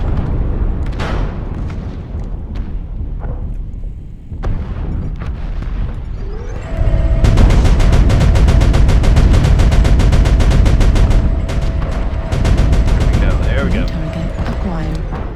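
Rotary autocannon fire in the MechWarrior Online video game: a loud, sustained rapid stream of shots with a steady whirring tone, cut by brief pauses, preceded by scattered bangs and booms of battle.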